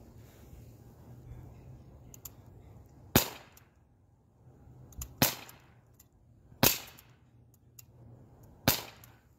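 Four sharp, loud pops from an Umarex Glock 19 Gen 3 BB pistol, fired one at a time at roughly two-second intervals, with quiet handling noise and a low background hum between shots.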